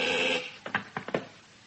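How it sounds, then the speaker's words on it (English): An old telephone bell rings in a radio drama, a few short bursts of ringing after a fading tone, fairly close and clear with no talking over it. "It all began with a phone call."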